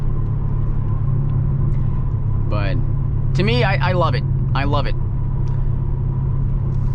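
Steady low exhaust rumble of a 2020 Dodge Challenger Scat Pack Widebody while driving, constant and close throughout, with someone talking briefly over it.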